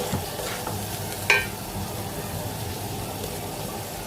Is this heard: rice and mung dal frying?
yes